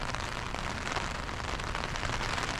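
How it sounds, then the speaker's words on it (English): Rain falling steadily on city surfaces in Seoul, a continuous dense patter and hiss at even loudness with no breaks. "it's just the rain is not stopping"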